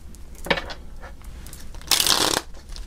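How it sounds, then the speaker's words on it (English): Tarot cards are shuffled by hand in quick riffling bursts, a brief flutter followed by a longer, louder ruffle of cards at close range, with no speech over it. "I am having shuffling problems with this now."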